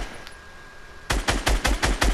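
Rapid automatic gunfire in Fortnite: after a quiet moment, a burst of about eight sharp, loud shots rattles off in quick rhythmic succession, close by.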